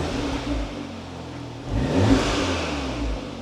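An Audi S3 8V with a custom valved exhaust revs, a low idle rising into a sharp throttle blip and falling back, then a smaller second rev, fairly close and clear.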